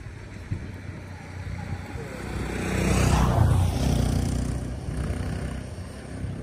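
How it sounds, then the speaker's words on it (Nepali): A motorcycle engine hums, swelling louder as it passes close by, then fading back into wind and road noise. "मोटरसाइकलको आवाज"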